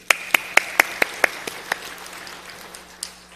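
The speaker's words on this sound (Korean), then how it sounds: "박수 한번 쳐주십니다" A few loud, evenly spaced claps ring out in a church hall, about seven sharp strikes close together that trail off into faint scattered claps.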